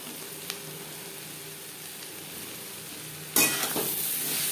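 Pieces of ridge gourd dropped into a pan of browned onions set off a sudden loud sizzle after a steady low fry hiss, followed by stirring scrapes.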